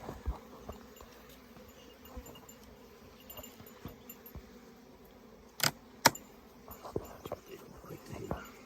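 Honeybees that have moved in as a swarm give off a faint, continuous low buzz close by, with a few brief clicks and knocks scattered through the quiet.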